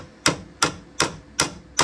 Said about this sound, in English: use your existing hammer almost like as a chisel and you hold that in place